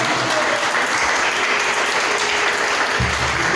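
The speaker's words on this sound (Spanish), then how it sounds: "Denle un aplauso en el nombre del Señor Jesús." Church congregation applauding during a Spanish-language worship service, a dense steady roar of many hands clapping close and loud throughout, with no voices over it.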